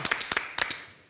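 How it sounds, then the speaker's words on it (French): A studio audience applauds on a French television talk show set, a short burst of a few scattered claps that rises quickly and fades away within about a second. "On applaudit les filles."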